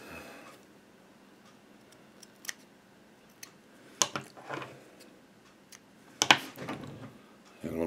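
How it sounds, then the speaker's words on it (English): Scissors trimming the corners of mesh, with sparse sharp snips and small handling clicks spread over a quiet background. "Now it's a little bit neater if you trim these corners"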